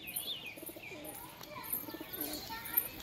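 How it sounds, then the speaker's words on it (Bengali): Pigeons, a flock of high-flying tumbler birds kept in a home loft, coo and chirp softly at a moderate distance, with a few wing flaps and faint background noise throughout. "মারফত ভাইয়ের বাড়িতে প্রচুর নিচে বাজি পায়রা আছে"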